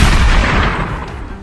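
A gunshot sound effect in a Hindi detective audio drama: a loud, close boom that rolls into a long, fading rumble over about a second and a half, with no voices.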